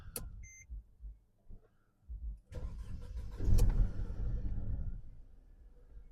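A 2007 Mercedes W211 with a 1.8 Kompressor engine cranks briefly, catches, and roars up before settling into a steady idle.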